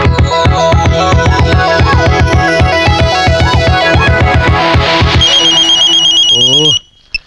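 A mobile phone rings loudly and close for an incoming call, its electronic tone pulsing in a fast, even rhythm before rising into a higher melody and cutting off abruptly.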